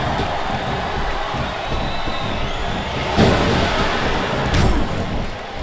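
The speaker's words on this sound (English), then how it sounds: "I think this crowd's giving these superstars a piece of their minds, King." Arena crowd in WWE SmackDown vs Raw 2007 during a Royal Rumble match keeps up a loud, continuous roar, with two brief swells of cheering partway through.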